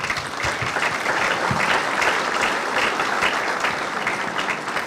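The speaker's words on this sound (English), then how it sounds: "Give yourselves a big round of applause" Steady, dense applause from a crowd gathered at a high school ribbon cutting ceremony, sustained and fairly loud throughout without a break.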